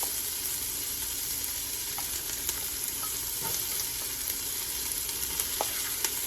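Onion, celery and garlic sizzle in a big soup pot over medium heat, with steady frying hiss and occasional soft scrapes and clicks of a spoon stirring, close and continuous without talk.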